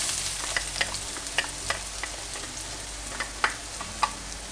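Garlic fries with ginger in a pan, a steady close sizzle with occasional sharp crackles and pops scattered throughout, no voices over it.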